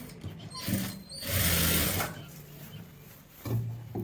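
A sewing machine stitching a pant pocket gives short mechanical whirring bursts with gear-like clatter, close and moderately loud across a few seconds.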